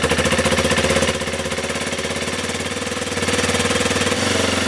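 A Kawasaki KLX 230 motorcycle engine idles steadily during idle adjustment, a close, loud, rhythmic single-cylinder chug that shifts slightly in pitch and pace as the speed changes.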